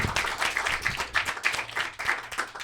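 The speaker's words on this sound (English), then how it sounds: "give yourselves a round of applause for doing the theme" A small audience in pajamas at a slumber-party-themed show claps in a quick round of applause, with uneven pulses of clapping that swell and dip over a few seconds.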